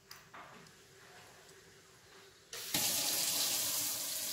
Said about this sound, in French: j'ai décidé de me laver les mains